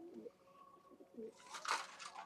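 Homing pigeons give soft, low coos in a few short throaty bursts, close by and fairly quiet, followed by a brief rustle of wings or movement.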